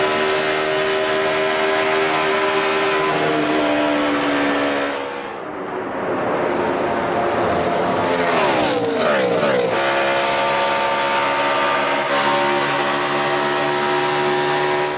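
NASCAR stock cars roar past on the final lap at Michigan, a loud continuous engine drone with passing pitch sweeps as the pack goes by, dipping briefly before surging again.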